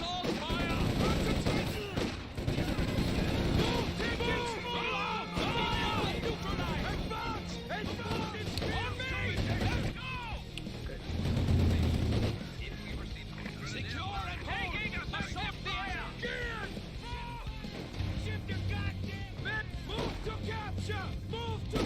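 Heavy video game battle gunfire, dense overlapping bursts and crackling shots with rumbling impacts, loud and sustained for the whole stretch as a voice calls out over the din.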